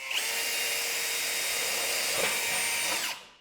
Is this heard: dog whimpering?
no